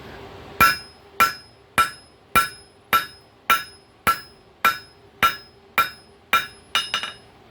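Cold chisel forged from a coil spring hammered on an anvil: about twelve sharp, ringing metal blows at a steady, even pace, close and loud, with a faster double strike near the end.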